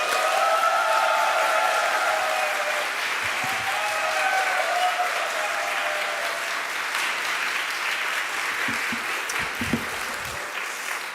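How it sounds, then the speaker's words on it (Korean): A church congregation in a Detroit Korean Presbyterian service gives a warm welcome with loud, sustained applause that fills the sanctuary and slowly tapers off near the end. "텍사스의 여름 날씨처럼 뜨겁게 박수하며 환영하겠습니다"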